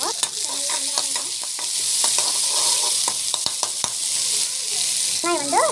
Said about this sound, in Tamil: ஆனியன் போட்டுட்டு நல்லா வதங்கிட்டோம்